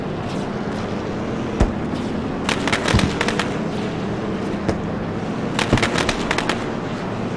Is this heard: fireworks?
yes